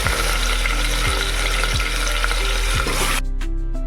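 Chicken pieces frying over lightly browned potatoes in a pressure cooker, a loud, steady close-up sizzle with repeated scraping stirs, quieting abruptly near the end.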